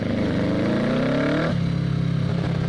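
Kawasaki Ninja ER6 650cc motorcycle engine revving up close, pitch rising steadily, then dropping sharply at a gear change before climbing again.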